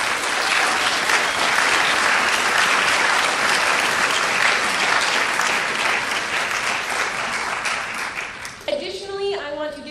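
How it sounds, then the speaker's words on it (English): An audience at a college speech night breaks into loud, sustained applause for speech team members, dense clapping filling the room for several seconds before tapering as a voice starts speaking near the end. "Please give these individuals a big round of applause"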